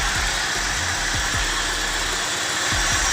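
A BMW 318i engine idles smoothly after a serpentine belt replacement, a steady close hum with a few low thumps and swells, free of belt noise and without talk.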